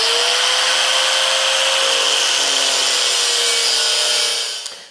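A steel bolt's head is sawn off for a woodworking sizing jig, giving a continuous loud, high-pitched grinding whine that holds steady for several seconds before tapering off at the end.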